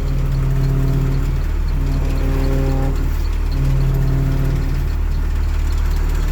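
A bus engine idling with its power steering pump whining, a loud low rumble carrying steady tonal whines that rise and fall in pitch, close by with no talk.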